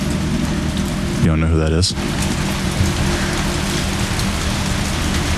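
Steady heavy rain from the video game Resident Evil 3 (2020) pours across the whole stretch in a dense, loud hiss, briefly broken by a short tonal interruption, while a voice asks a question over it.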